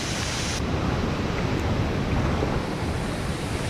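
A waterfall roars as a steady, broad rush of falling water, loud and unbroken throughout, with a brief brighter hiss at the very start.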